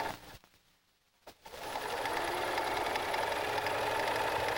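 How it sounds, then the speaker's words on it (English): A Bernina sewing machine stitches bias binding onto a quilt, starting after a short pause with a couple of clicks, then running at a steady, loud, continuous whir with no talk. "sew the bias strip up to the 1/4 inch mark and backstitch"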